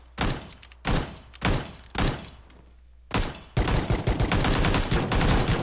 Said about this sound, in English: I got a couple shots on him.